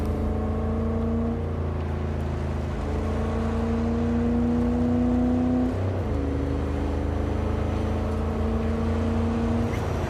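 A car drives steadily through Cyberpunk 2077, its engine a continuous hum with gear-like pitch shifts and a brief dip midway, loud and close with no talking.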